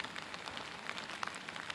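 Rain falling at a dam near Rourkela: a faint, steady patter of drops on a surface, even and continuous over a couple of seconds, with no voices.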